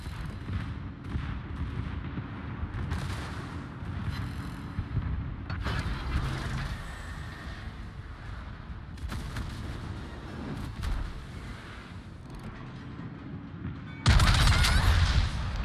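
Secondary battery guns on the German battleship Prince Heinrich fire in a naval video game, heavy booming shots in quick irregular bursts with mechanical clatter. A loud blast lands near the end.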